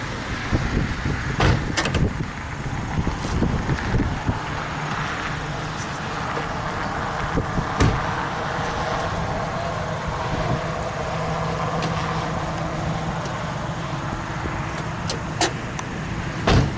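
An old car engine sound effect, a continuous rough motor rumble with occasional clunks and knocks, steady and moderately loud throughout.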